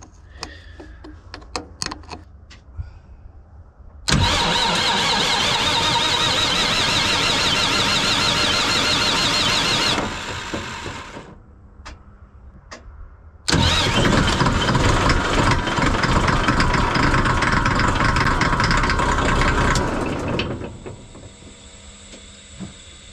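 An older CAT 14G grader engine cranks slowly in two long, loud, grinding bursts separated by a brief pause, then settles into a quieter, steady low running sound.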